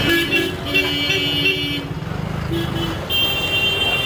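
A bus passes on a busy Kolkata street, a loud engine rumble amid dense traffic noise with horn toots, the drone swelling midway and easing off.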